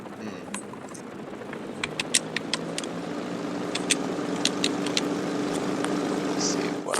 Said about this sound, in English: It keeps turning my engine on.